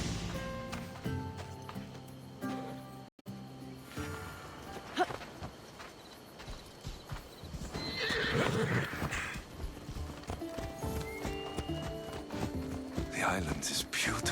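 Horse hoofbeats and loud whinnying neighs in the Assassin's Creed Odyssey video game, a galloping clip-clop rhythm with a sharp neigh early on, set against game music and ambient sound, with voices speaking intermittently.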